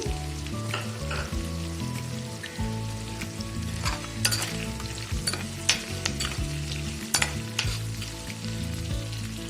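Capsicum fries in ghee for bisi bele bath, giving a steady close sizzle with scattered clinks and scrapes of stirring throughout and no voices.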